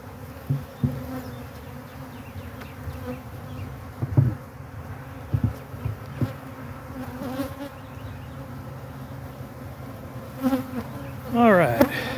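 Bees hum and buzz steadily around Layens pasture hives outdoors, close by, with occasional louder passes and light knocks from handling the hive equipment.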